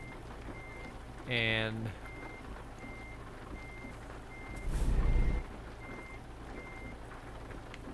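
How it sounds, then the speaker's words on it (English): Reversing beeps from a truck in American Truck Simulator sound as a steady, evenly spaced series of short electronic tones over low engine rumble, with a brief horn-like burst early on, a louder whoosh later and a single spoken word. "We can back up into a spot over here."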